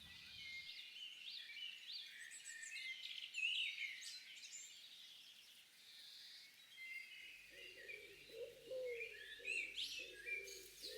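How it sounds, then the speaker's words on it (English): Wood pigeon and wren calling outdoors, with faint high chirping bird song and a low cooing pigeon that enters near the end, all soft and somewhat distant in quiet surroundings. "So you can hear at the moment a wood pigeon, a wren"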